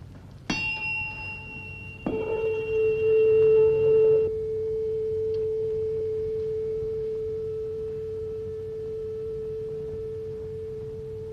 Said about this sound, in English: this is a tuning fork